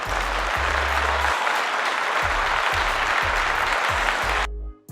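Sustained applause sound effect, dense clapping held at steady loudness for several seconds before cutting off sharply, with faint low thumps underneath.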